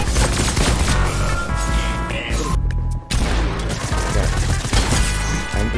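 Enemy gunfire in a video game crackles in rapid, loud bursts, dense fusillade-like shots with a brief gap in the middle before the firing resumes.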